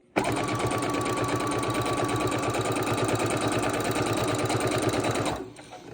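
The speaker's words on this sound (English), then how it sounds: "I'm sewing all my borders together for length" A sewing machine runs at high speed in one unbroken stretch of rapid, even needle chatter while quilt border strips are stitched together end to end, stopping abruptly after about five seconds.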